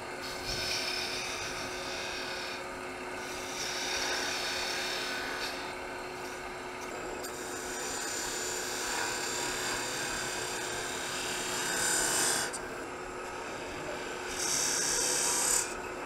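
A wooden mallet spins on a lathe while a tool peels and shapes it, giving a continuous rasping, scraping whir that rises and falls as the cuts change.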